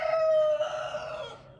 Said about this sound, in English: That rooster, I swear, goodness gracious, it's loud.